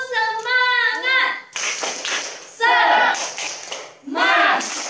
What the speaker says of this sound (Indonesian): Satu, tepuk semangat.